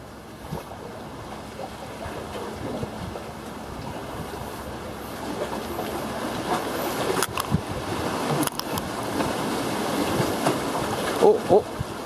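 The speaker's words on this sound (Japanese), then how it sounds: "お、波大きいの来た。" Sea waves surge and wash around a boat on the Sea of Japan during shore jigging for yellowtail, a rising rush of water under steady wind, growing louder toward the end with a few sharp knocks.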